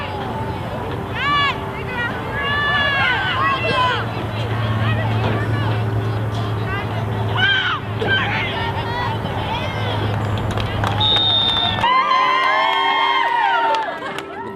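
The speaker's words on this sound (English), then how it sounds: "With the varsity and JV teams cheering them on from the sidelines" Sideline crowd of varsity and JV high school players cheering at a modified middle school game against Livonia: a steady, dense babble of shouts and yells with whoops rising over it, loud and continuous throughout.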